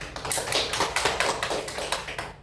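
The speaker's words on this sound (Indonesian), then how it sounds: "Silakan beri aplaus pada teman." A classroom of children claps for a classmate in a steady, rhythmic burst of close, loud hand claps lasting a couple of seconds.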